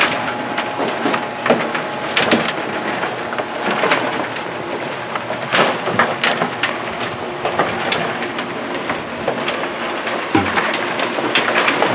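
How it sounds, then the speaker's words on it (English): Rattling clatter from a rotary trommel turning diamond ore at a processing plant near Arkansas' Crater of Diamonds State Park, with dense continuous scraping and knocking, loud and steady throughout. "After it goes in the chute, it goes into the rotary trommel, and the oversized material comes down here."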